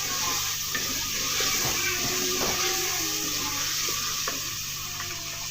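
Tomatoes with turmeric and salt stir-fry in a pan, a steady broad sizzle with occasional scrapes and clicks of the spoon, close and continuous with no talking.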